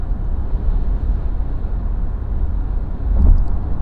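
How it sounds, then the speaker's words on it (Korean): Cabin noise inside a Kia EV6 electric car while driving, coming from the rear fender and trunk area: a steady low rumble and hiss, moderately loud, with a slight swell near the end and no talking. "요 트렁크 뒤쪽 리어 휀다 쪽에서 넘어오는 그런 소리가 조금 있는 차입니다."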